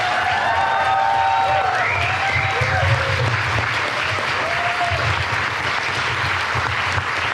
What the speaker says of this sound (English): Please join me in a huge round of applause for Mark Bunje.